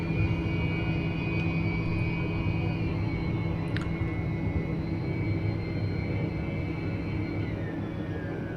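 A HotStart TBM turboprop aircraft takes off in a flight simulator, its steady engine roar and low rumble holding constant throughout, with a rising whine shifting in pitch partway through.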